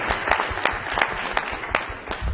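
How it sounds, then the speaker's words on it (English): Audience applause at a family planning conference in Nigeria: steady, dense clapping from a crowd, fairly loud and close, with sharper individual claps standing out, no speech over it. "So we need to applaud them at this moment."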